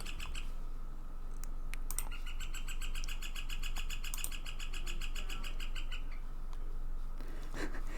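Small birds chirp and tweet repeatedly in quick high bursts, fairly close, in spring, over a faint steady background hum.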